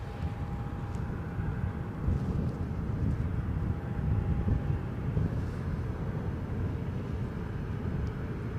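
A Brussels Airlines airliner at Edinburgh airport, its engines a steady, broad low roar with wind buffeting the microphone throughout, fairly distant and unbroken with no talk.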